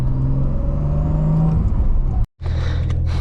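Nissan Skyline R32 GTST driving on a higher-speed road, with a steady loud engine drone and road roar that cuts out briefly near the end before resuming.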